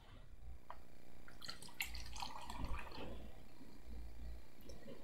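Water poured from a bottle into a cup, a faint trickling and splashing stream with gurgling bursts, soft and close over a steady low background hum.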